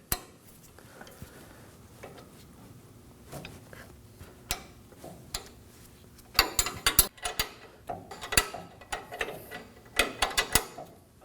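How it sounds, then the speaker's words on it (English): An 18mm wrench working a control arm nut loose on a 2017-2024 Nissan Armada front suspension, heard as a string of close metallic clicks, ratcheting taps and clanks that grow busier and louder in the second half. "And on the other side, we're going to use an 18mm wrench."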